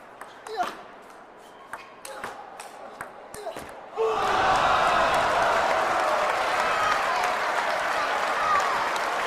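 A table tennis crowd at a North American teams championship final bursts into sustained loud cheering and applause after a few scattered claps and thumps, with commentary voices underneath.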